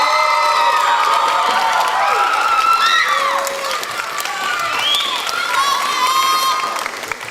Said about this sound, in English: Let's give him a huge round of applause